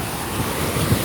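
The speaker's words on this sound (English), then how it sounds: "That's the biggest wave." Ocean waves at a beach, a broad, continuous wash of surf with wind noise buffeting the microphone, loud and close over one brief second.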